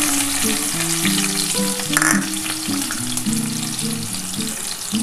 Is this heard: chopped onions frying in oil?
yes